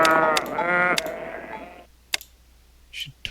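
A sheep bleats once in the Capitalism 2 video game, a clear wavering bleat lasting over a second, followed by a few soft clicks and faint game sounds.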